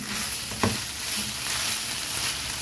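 Shredded chicken breast with vinegar dry-toasts in a pan, giving a steady soft sizzle with a brief stirring scrape partway through and no talking.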